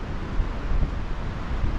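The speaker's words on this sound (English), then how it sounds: "There's another gust. Can you hear it?" Strong wind gusting across a campsite where a tarp tent of PVC pipe stands in high winds, a steady loud low roar buffeting the microphone with slight surges, no voices.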